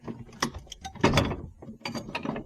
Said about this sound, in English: you're gonna want to get a decent ratchet